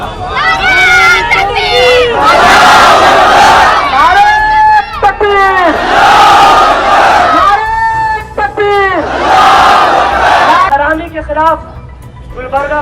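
A large crowd at a protest rally chants the takbir in loud, rhythmic waves of many voices. Several swelling shouts rise and fall in repeated calls across the span.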